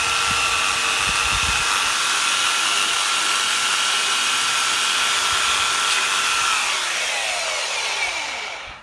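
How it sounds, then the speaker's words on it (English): Belt sander running steadily on a box frame's shelf surface, a loud continuous whine and rush that holds for about seven seconds before winding down at the end. "the easiest way is just to use a belt sander like this"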